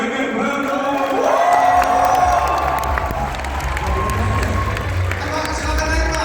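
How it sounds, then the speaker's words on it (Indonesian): A festival audience at Idea Fest 2023 in Indonesia bursts into loud, sustained applause mixed with cheering and whoops, a dense crowd roar with voices rising over the clapping throughout. "Jadi kita sambut lagi tepuk tangan yang meriah untuk Pak Ganjar Pranowo."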